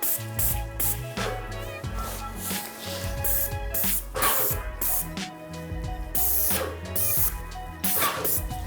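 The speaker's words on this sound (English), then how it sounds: "You wanna make sure that you're spraying in a consistent pattern." A paint sprayer painting kitchen cabinets hisses in repeated bursts, starting and stopping in a steady rhythm, close and loud with a mechanical hum underneath.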